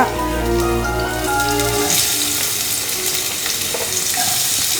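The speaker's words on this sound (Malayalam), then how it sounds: "ഓയിൽ ചൂടായി കഴിയുമ്പോൾ നമ്മുടെ 2 പീസ് വെളുത്തുള്ളി ഇട്ടിട്ടുണ്ട്." Garlic cloves and onion fry in hot oil for pasta sauce, a dense close sizzle that swells into a bright crackling hiss, with a low humming tone fading out in the first two seconds.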